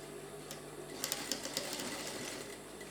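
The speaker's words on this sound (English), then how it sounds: "I'm going to hold it here and stitch so that it will not be moving" A sewing machine makes a short, fairly quiet run of stitching while tacking the zipper fly of a woman's trousers, with a few small clicks.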